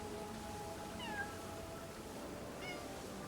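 A cat meows twice inside a casual video game, short rising-falling calls near and clear over a steady low background hum, with no talk over them.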